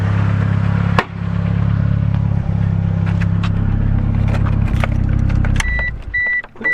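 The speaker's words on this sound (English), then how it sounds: "Can you turn my car off?" A Mazda Miata idles with a steady low engine hum, then cuts out abruptly when the key is turned. Afterward a repeating electronic chime beeps three times in the near quiet.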